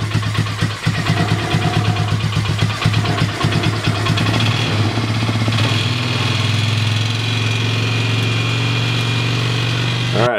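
A Polaris Sportsman ATV engine runs steadily up close with a rough, uneven idle while running rich, then sputters and cuts off abruptly at the end.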